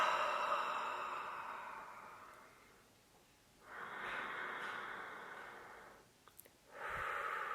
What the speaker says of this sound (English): please join me in taking a couple nice deep breaths